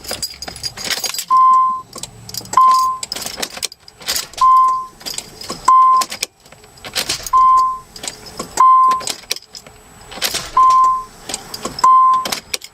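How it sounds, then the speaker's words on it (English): A Nissan Fairlady Z32 with a starter problem: keys jangle and click in the ignition while a short chime beeps in pairs, with bursts of loud close mechanical clunking and whirring as the key is turned repeatedly. "Starter turns on, it kicks, the whole car kicks from the starter"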